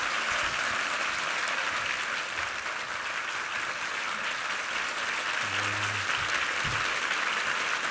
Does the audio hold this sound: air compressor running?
no